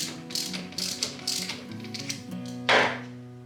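A ratchet wrench clicks in short rapid bursts as nuts on a clutch are tightened, with a louder clatter near the end.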